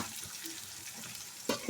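Chopped medium onion frying in a hot kadai already used for frying fish, a faint, steady sizzle under a soft stir, ending in a louder scrape.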